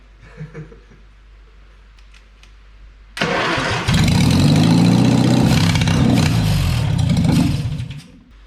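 A 948cc Morris Minor engine cranks briefly and catches, then runs loud and rough with revving close by for several seconds before cutting out.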